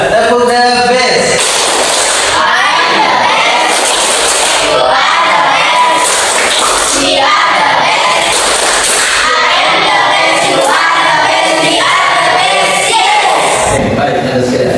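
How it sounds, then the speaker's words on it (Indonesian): Schoolchildren in an Islamic religious education class perform the 'tepuk the best' cheer: loud group clapping in rhythmic bursts mixed with shouted chanting, filling the room. "Oke, beri tepuk the best untuk mereka berdua dulu ya"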